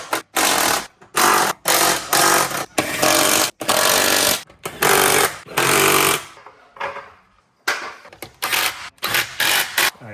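A grinder works near a car's engine and firewall in loud, repeated bursts separated by short pauses, with a quieter stretch before grinding resumes.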